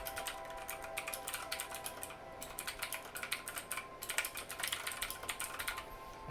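Rapid, close typing on a mechanical keyboard with Cherry MX Blue switches, a dense run of crisp clicky keystrokes with two short pauses, heard alone without any voice.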